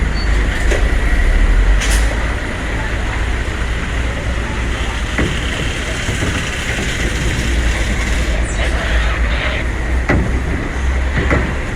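A heavy vehicle's engine roars and revs steadily while it rolls off the KMP Sagita ferry during unloading, loud and close, with a dense mechanical rumble and clatter and occasional voices in the background.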